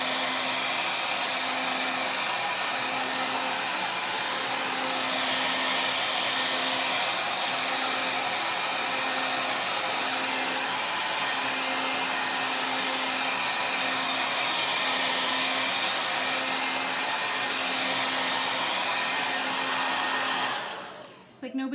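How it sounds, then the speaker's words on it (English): A hair dryer blows steadily at close range, drying chalk paint, with a constant whooshing roar and a faint motor hum, running for about twenty seconds before cutting off. "I'm going to dry this up quickly with my hairdryer"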